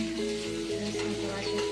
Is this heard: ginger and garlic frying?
yes